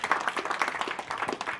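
Audience clapping at a church service honoring John Cooper, a steady, moderately distant patter of many hands with no talking over it.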